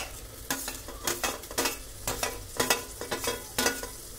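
Whole green chillies and tomato fry in a pan for chicken dum biryani, a constant sizzle broken by brisk, rhythmic spoon scrapes about twice a second, close and fairly loud.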